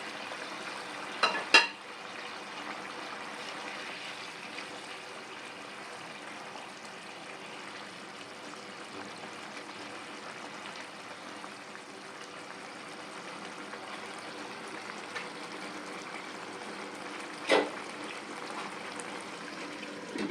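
Lentil fritters (bora) go into a simmering pot of curry, giving a soft bubbling, sizzling bed of sound with a couple of brief splashes and clinks early on and another near the end.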